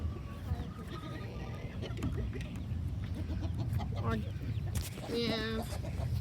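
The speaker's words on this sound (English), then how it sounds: "little baby chickens" Baby chickens cluck and peep in a farm pen alongside ducks and turkeys, with soft chirps scattered over steady background noise and a couple of clearer calls near the end.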